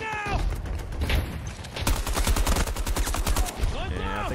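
Sustained automatic fire from an AK-5C assault rifle in Battlefield 2042, loud rapid shots in a dense, continuous stream with a brief lull before resuming.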